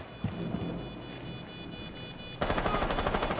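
Rapid bursts of automatic gunfire crackle in a Rainbow Six Siege firefight, growing louder and denser near the end, with no talking.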